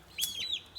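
Backyard hens near their coop give a short, high, clear call that rises and falls, then a fainter second note, heard alone over quiet outdoor background.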